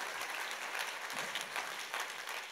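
A church congregation at a New Year's Eve worship service claps together in a sustained, even burst of applause, filling the hall without pause.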